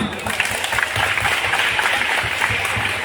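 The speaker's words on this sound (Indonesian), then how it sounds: "Tepuk tangan semua" Sustained applause from a school audience at an Islamic New Year (Hijriyah) celebration at an Indonesian madrasah, steady dense clapping filling the room for several seconds at even loudness.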